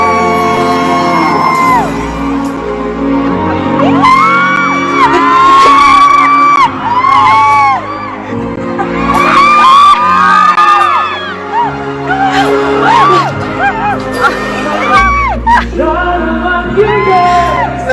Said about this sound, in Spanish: Pongan atención a los gritos de las Dears.